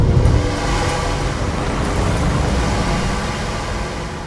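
A Porsche Cayenne 957 accelerates hard, its engine a loud, steady roar with road noise that holds strong through the run and eases slightly toward the end.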